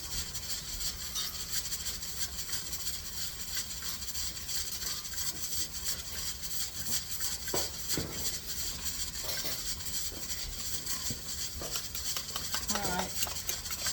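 Steady rubbing and scraping as butter is mixed into mashed potatoes for duchess potatoes, a utensil working against a bowl in a continuous close, moderately loud rhythm with faint talk.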